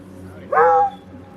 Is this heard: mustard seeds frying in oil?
no